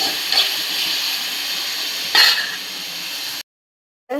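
Brinjal sautés with salt in a hot pan, giving a steady close sizzling hiss broken by two brief stir scrapes, before cutting off abruptly to silence near the end.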